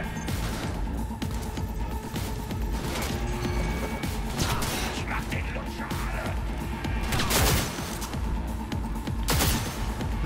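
Gunfire in Cyberpunk 2077 rattles through the game's busy soundscape in rapid bursts and crashes, mixed with impacts and mechanical effects at a moderate level throughout.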